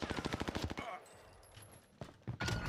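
Automatic gunfire in a Call of Duty match: a rapid, evenly spaced burst of shots up front, a lull, then another sharp burst near the end, with players talking over the action.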